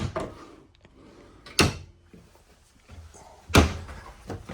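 Kitchen drawers in the rear kitchen of a 2026 Grand Design Transcend 285RKT travel trailer slide and shut, giving two sharp thuds among softer rattles and scrapes, with no talk.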